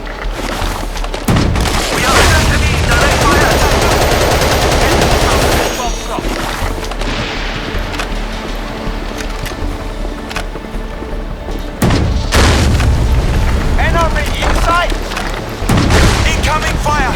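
Battlefield 2: Modern Combat gameplay with sustained loud machine-gun fire and heavy explosions, dense continuous bursts with booming blasts near the start and again around two-thirds through.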